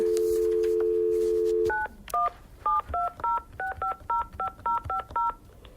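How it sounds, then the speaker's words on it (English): Telephone keypad tones while redialing a conference call during a city council meeting: a steady dial tone, then about fourteen short, evenly spaced dual-pitch beeps, clear and moderately loud. "I'm having problems with the phone, so I'm going to try to redial"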